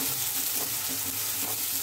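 Chopped onion sautéing in a pan for pasta, giving a steady, close sizzle and crackle that fills the short moment with no voices.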